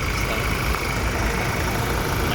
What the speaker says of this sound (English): And that's that 2-litre motor in there for you